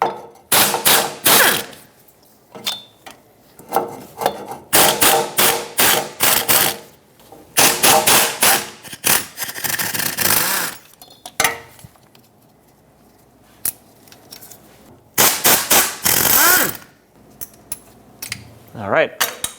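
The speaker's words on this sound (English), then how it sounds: "You should be able to get to them with a power tool unless you have another way of getting to them." A power impact tool rattles in repeated loud bursts of a few seconds each, taking out the driveshaft bolts on a 2008-2012 Jeep Liberty, with pauses between the bursts.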